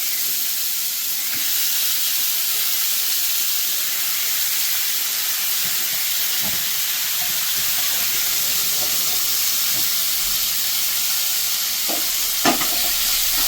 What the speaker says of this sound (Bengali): এবার এটা ভাজতে ভাজতে এটার তেলটাই পুরো গলে যাবে, আর পেঁয়াজটাও ভালো করে ভাজা হয়ে যাবে।